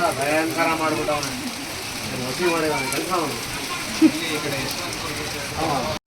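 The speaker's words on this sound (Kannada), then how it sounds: "ಮಳೆ ಬರ್ತಾ ಇದೆ" Rain patters steadily in the background, a soft constant hiss beneath people talking nearby as they sit down to a village festival meal.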